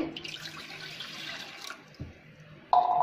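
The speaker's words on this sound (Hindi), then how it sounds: "गैस चालू करेंगे, पानी डालेंगे" Water is poured into a pan on a gas stove to make sugar syrup: a close, short splashing pour, then quiet clatter and a brief loud burst of running water at the end.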